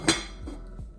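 A single close metallic clank of a lid set onto a pot of seafood chowder, followed by a couple of faint light rattles as it settles.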